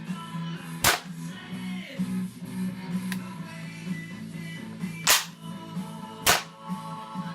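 A WE XM177 gas blowback airsoft rifle, fitted with a real steel spring and buffer, fires three sharp, loud single shots spaced a couple of seconds apart, with a fainter click between and a low steady hum underneath.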